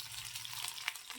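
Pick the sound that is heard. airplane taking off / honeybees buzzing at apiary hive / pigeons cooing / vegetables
vegetables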